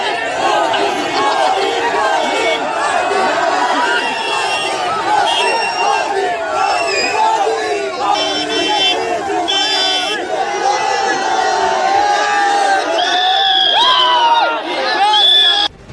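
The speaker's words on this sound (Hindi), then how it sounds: "भीड़ ने मोदी मोदी का नारा लगाना शुरू कर दिया" A dense crowd shouts a rhythmic political slogan in unison at a public event where a deputy chief minister is present, loud, continuous and close throughout, with overlapping voices and scattered cheers.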